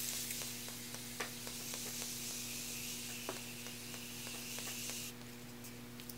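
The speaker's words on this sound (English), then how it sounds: "Morphe setting spray." Morphe setting spray is misted onto a face in faint, quick hissing spritzes over a quiet background hum.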